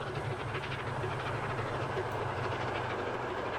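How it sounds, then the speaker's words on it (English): A ScotRail train rolls past in the Transport Fever 2 simulation, heard as a steady, dense rumble with faint rhythmic clatter of wheels on track, constant in loudness throughout with no voices. "I seem to have a lot of these ScotRail trains going through Avonmore."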